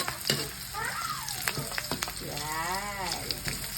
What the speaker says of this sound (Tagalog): Ginigisa po ang bawang at ang luya.